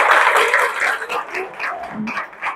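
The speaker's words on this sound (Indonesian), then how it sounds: "Tepuk tangan dong." Seminar audience applauding for a chemical engineering talk, a steady wash of clapping from many hands that carries on throughout, moderately loud and fairly close.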